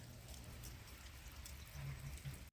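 Steady rain falls outdoors at a home garden on a dismal day, a continuous soft patter of drops on surfaces, moderately quiet and even throughout with no talk.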